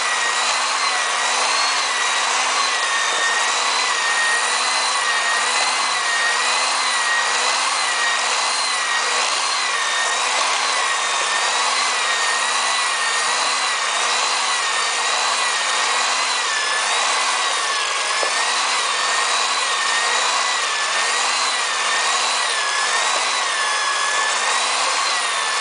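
Butter and sugar are creamed for a traditional Christmas plum cake: a loud, continuous mixer whir with a slightly wavering pitch runs unbroken for the whole stretch, with no talking.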